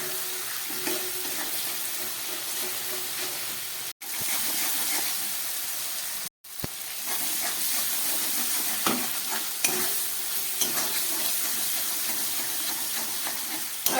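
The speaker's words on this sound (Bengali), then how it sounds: "দিয়ে এবার খুব ভালো করে একটু কষিয়ে নেব, যাতে কাঁচা আদা রসুনের গন্ধটা চলে যায়।" Ginger, garlic and green chili paste sautéing in a pan for a prawn and potato curry: a loud, continuous close sizzle with occasional stirring scrapes and two brief breaks.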